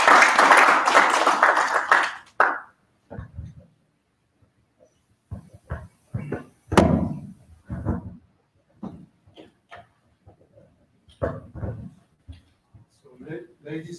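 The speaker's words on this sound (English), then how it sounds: "may we have a round of applause?" A loud burst of audience applause at a breakfast event at the French Embassy in Pretoria lasts about two seconds and cuts off, followed by someone speaking into a microphone with short pauses.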